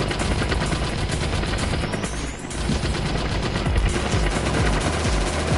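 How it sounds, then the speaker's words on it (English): Minigun in Operation Warcade, a VR arcade shooter, fires in one continuous loud, buzzing stream of rapid shots lasting several seconds with only a brief dip. "Oh yeah, minigun."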